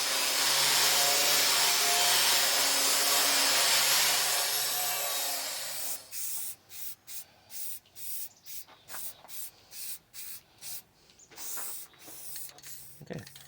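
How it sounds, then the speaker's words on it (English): Rusty metal on a trailer is sanded, first with several seconds of continuous harsh abrasive noise, then a series of rhythmic back-and-forth scraping strokes, close and fairly loud. "So I'll give this stuff more a quick sand."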